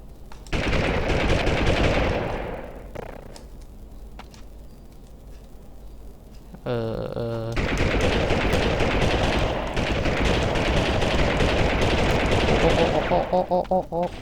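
Dense, loud gunfire from the Army Men 3D video game runs almost continuously in long bursts, with a quieter stretch in the middle and someone talking over much of it.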